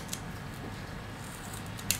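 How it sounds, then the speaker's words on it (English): Scissors handled at close range during an iPod Nano 6th generation repair, a few faint metallic clicks and snips over quiet room noise, with a sharper click near the end. "I've got some scissors here."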